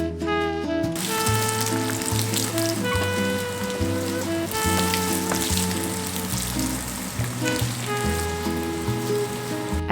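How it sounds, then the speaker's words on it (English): Seitan strips fry in olive oil in a pan, a steady close sizzle that runs throughout beneath prominent music, with no talking. "added it to my pan with some olive oil to fry until golden from all sides"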